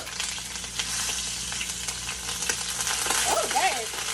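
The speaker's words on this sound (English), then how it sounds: "now that I got my oil heated for my shrimp tacos" Shrimp for shrimp tacos frying in heated oil, a steady crackling sizzle at moderate level, with a brief faint voice near the end.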